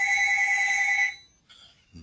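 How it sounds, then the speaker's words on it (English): A bright electronic phone ringtone tone plays for about a second, then cuts off, followed by brief faint sounds. "Sorry, my phone's ringing."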